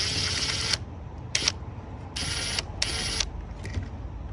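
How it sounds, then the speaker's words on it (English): A ratcheting socket wrench works a 10mm bolt on a Honda Odyssey alternator, giving several short bursts of fast clicking, close and fairly quiet, separated by brief pauses. "So now I'm gonna take the 10mm right here off."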